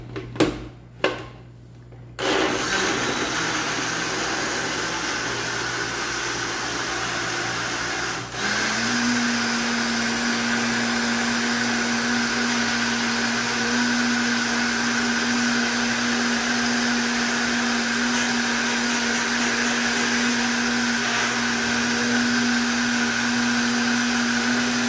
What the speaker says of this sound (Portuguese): Agora vamos passar para o liquidificador.